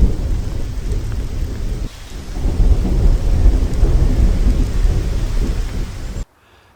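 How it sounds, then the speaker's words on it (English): Thunder rumbles over steady autumn rain in the New Forest, falling on surfaces, a loud deep roll that swells, dips and ends abruptly. "Then we had thunderstorms."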